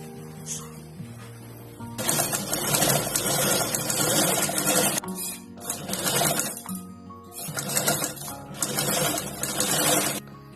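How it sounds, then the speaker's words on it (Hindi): A sewing machine stitches a fabric bag in several bursts of rapid whirring, loud and close, separated by short pauses. "अब इसे भी हम ऐसे सिलाई कर देंगे।"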